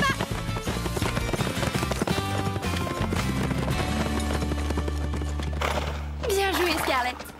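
Rapid hoofbeats of horses galloping in a race drum under music, with a whinny-like cry rising near the end.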